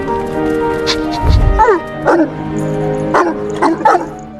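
A small short-legged dog yips and barks excitedly in a few separate bursts near a Great Dane, sounding close over a steady backdrop of soft music.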